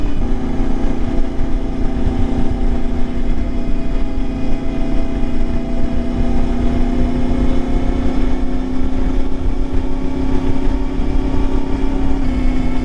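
An Ibex 450 motorcycle engine with an upgraded ECU, ridden on the Ortega Highway, drones loud and steady with a constant low hum and a gritty rumble, held at an even pace with no voices.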